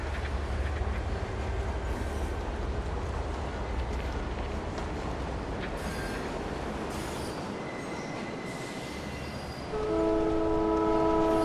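A train in Fortnite during a concert event rumbles past with a steady rolling roar of wheels, a horn sounding partway through and again louder near the end, close and continuous with no talk.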